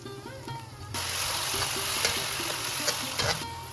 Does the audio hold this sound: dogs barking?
no